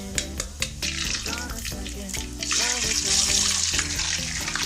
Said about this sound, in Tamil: நம்ம பூண்டையும் இஞ்சியும் போட்டுக்கலாம்